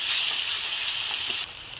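Onion and garlic paste fries in a pan with a loud, bright, continuous sizzle close by, dropping suddenly in level near the end as if the heat or stirring changes.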